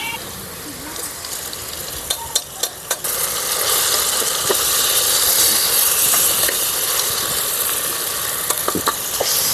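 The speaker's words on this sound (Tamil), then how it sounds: "இப்ப இஞ்சி பூண்டு பேஸ்ட் போட்டுக்கலாம்." Ginger garlic paste hitting browned onions in a pan for chicken biryani, a loud, steady sizzle and hiss with occasional stirring clicks.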